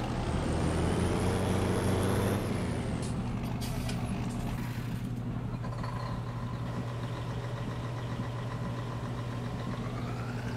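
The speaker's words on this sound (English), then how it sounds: "So, I guess let's go get the big truck." A big truck in the Farming Simulator 19 video game idles with a steady low engine rumble while reversing beeps and a brief hiss of air brakes sound over it.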